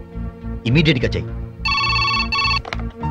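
A telephone rings with a bright, electronic trill for about a second, following a short stretch of talking; speech resumes right after the ring.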